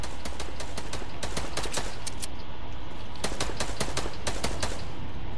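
Rapid bursts of gunfire from a video game battle, with sharp repeated shots in quick clusters and short pauses between volleys, loud and continuous over a steady background hum.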